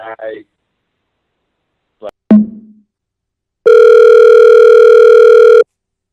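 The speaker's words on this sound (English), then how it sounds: "I accidentally hit the hang up button on my phone" A telephone dial tone sounds after a call is hung up: brief voice fragments and a click, then a loud, steady, continuous tone lasting about two seconds.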